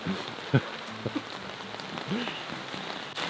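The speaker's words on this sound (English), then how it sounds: "it's the rainiest day we've had yet" Heavy rain pours steadily onto a sailing boat in rainy season, a dense continuous hiss of drops on the surface with a few brief louder spatters.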